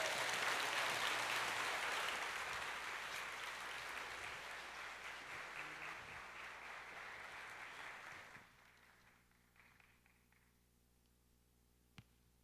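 A church congregation at a Sunday service claps warmly to welcome the pastor, loud and dense at first, then thinning and fading away after about eight seconds, leaving a quiet room with a single sharp knock near the end.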